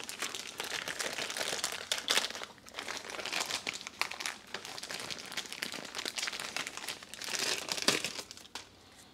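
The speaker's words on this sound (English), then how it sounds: "Let's take our new one out of the packaging." Plastic packaging crinkles and crumples in bursts as a new aquarium ballast is unwrapped close up, quiet rustling with short pauses between handfuls.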